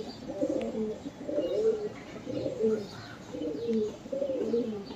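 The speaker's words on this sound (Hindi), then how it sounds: "एकदम ब्रीडर कबूतर है भाई।" Breeder pigeons coo close by in repeated low, throaty rolling phrases, several overlapping calls in a steady rhythm with no talking.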